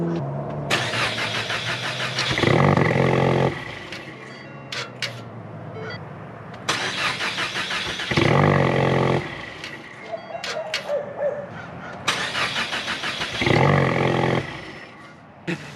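A car's new EcoBoost engine cranks repeatedly in three long attempts on its first start, whirring and grinding loudly without catching, with short pauses between tries.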